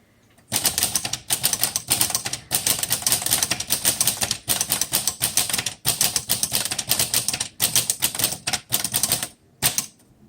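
Brisk keystrokes clatter on a 1936 Corona Silent Flat Top typewriter, a close, rapid stream of sharp mechanical taps broken by short pauses, with a final few isolated strikes.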